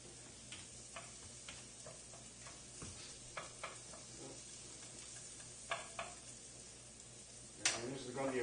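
Shallots cooking in melted butter in a pan, a quiet sizzle under intermittent light scraping and tapping of a utensil moving them around, with one louder clatter near the end.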